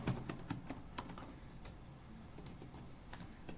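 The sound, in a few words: typing ESP32 code on a computer keyboard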